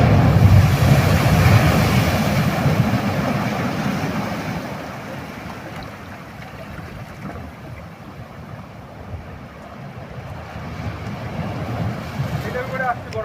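Rough sea waves and surf break along the Odisha coast during bait fishing, a steady loud wash with wind noise that eases midway and builds again toward the end.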